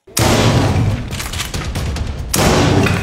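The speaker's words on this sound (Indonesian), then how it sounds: "Agent Kin dan Reddington tidak terkena tembakan" A loud burst of rapid gunfire erupts, a dense barrage of shots that briefly eases, then surges again close by.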